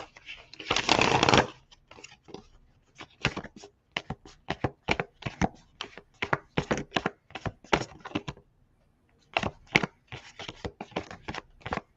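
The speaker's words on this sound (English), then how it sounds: "shuffling her cards" A deck of tarot cards is shuffled by hand close up, with a long riffle burst followed by many quick papery flicks and taps in irregular bursts, with brief pauses between them.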